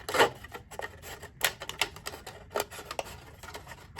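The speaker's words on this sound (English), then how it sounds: "it can be cut using the scissors" Scissors snip through a thin plastic cup in a series of short, crisp cuts with pauses between, close and fairly quiet, with no talking.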